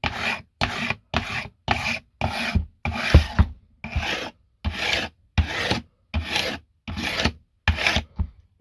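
Hand file rasping along the fret edges of a Steinberger XT25 guitar during a setup, a dozen evenly spaced strokes, each about half a second, close and clear with short pauses between them and no talking.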